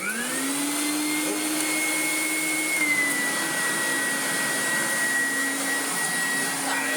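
A vacuum cleaner picks up sawdust and debris on a black rug, a loud, continuous motor whine whose pitch steps down slightly partway through, steady and close.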